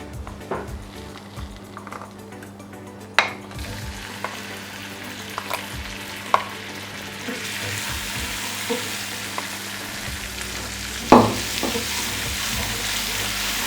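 Butter hits melted sugar in a pan for kozhukattai filling and sizzles steadily while a spoon stirs, with a few soft scrapes and taps against the pan throughout, close and alone.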